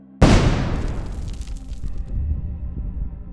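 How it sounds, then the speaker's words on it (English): An FPV drone strike on a soldier in winter fighting sets off a sudden loud explosion, a sharp blast followed by a long rolling rumble that fades slowly, with no voices. "The drone rapidly descends and targets the soldier directly, causing an explosion."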